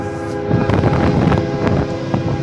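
CSX 5367 freight train rolling through Altamont, Illinois, a steady loud rumble with harmonic engine drone and wind-like roar, continuous throughout with no voices.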